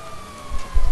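Police car siren in the video game GTA 5, a steady wailing tone held through the second, with low thumps and game noise rising toward the end.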